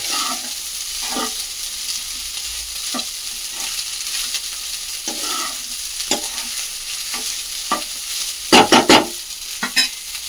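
Egg fried rice frying in a pan at home, with steady sizzling and repeated stirring scrapes, then a few sharper clanks of the spatula near the end.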